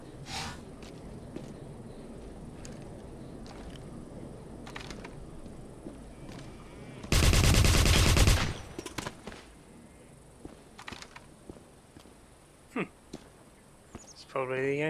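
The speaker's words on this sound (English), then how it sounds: "Where the hell did that come from? Goodness. It's a sniper." Sniper gunfire in the Wolfenstein video game: a single loud, harsh burst of shot noise cuts sharply through quieter background game sounds and footsteps, with a few fainter impacts following.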